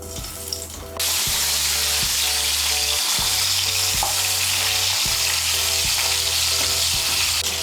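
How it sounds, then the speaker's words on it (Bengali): Pointed gourd drops into hot oil in a wok and the sizzle rises at once to a loud, steady crackle, with a faint low mechanical hum pulsing underneath. "এখন আমি পটলগুলোকে ভেজে নেব।"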